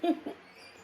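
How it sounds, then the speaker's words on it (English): A couple of short, muffled dog barks, distant as if from outdoors, followed by quiet room tone. "You can hear my dog barking outside."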